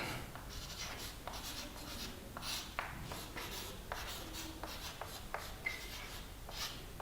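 During a Hindi physics lecture on work and energy, chalk or marker writes on a board with soft scratchy strokes and small taps. They come in short bursts, quiet and fairly close, with no talk over them.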